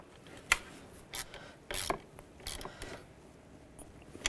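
The positive battery terminal on a Volkswagen Beetle is tightened down: a few quiet, close metallic scrapes and rubs, scattered and irregular, with no talking.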